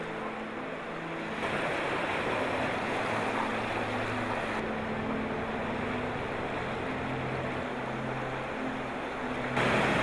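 Ferocious tidal rapids at Nakwakto roar at full flow, a loud, continuous rush of turbulent water heard from a boat, with wind buffeting and a low engine hum underneath.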